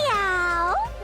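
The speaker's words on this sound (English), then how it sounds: "Meow." A single close, clear cat meow with a rising then falling pitch, heard in the video game Danganronpa 2.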